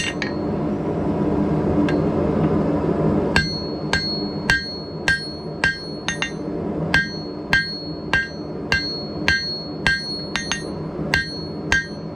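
Hand hammer striking a steel war hammer head on an anvil, a steady series of sharp ringing metallic blows, close and loud over a low background rumble, after a few seconds of quieter noise and one early strike.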